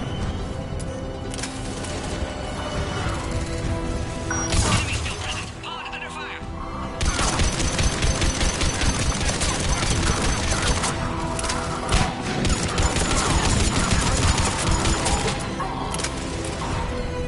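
Rapid bursts of gunfire and clattering mechanical combat effects from Mass Effect 3 on insanity difficulty, dense and loud throughout, with game characters' voices under the fighting.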